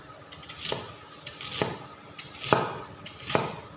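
A knife chops through crispy fried pork belly on a board, making four sharp crackling cuts at a steady pace, close and fairly quiet, with no talk.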